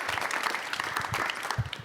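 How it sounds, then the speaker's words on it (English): Audience applause at a talk on React and single-page apps: a steady patter of clapping from a moderate crowd, fairly close and even, running the whole stretch without voices. "I just want to give him another round of applause"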